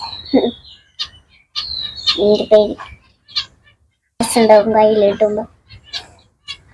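Loud, harsh bird squawks in two drawn-out bursts, with people talking in between and around them.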